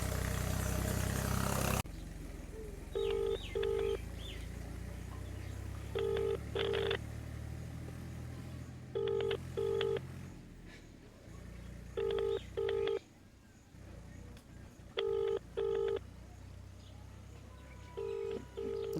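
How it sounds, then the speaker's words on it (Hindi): A mobile phone rings out on a call to the Batiya police station SHO, repeating a loud, steady ringback tone in regular double bursts over a faint idling engine, with no answer. "बटिया थाना पुलिस को फ़ोन लगा रहे हैं, बटिया थाना SHO को।"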